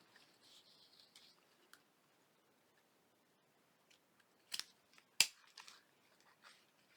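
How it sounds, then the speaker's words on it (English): Scissors snip through paper scraps while working on a junk journal, a few sharp crisp cuts standing out amid faint rustling and handling noise in a quiet room. "What did I do with my scissors?"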